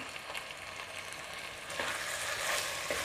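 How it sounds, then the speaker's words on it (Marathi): Spices including turmeric, red chilli powder and mutton masala are sautéed for a mutton curry, giving a soft steady frying hiss that swells slightly partway through, fairly faint. "आपण मसाले पुन्हा चांगले परतून घेऊया"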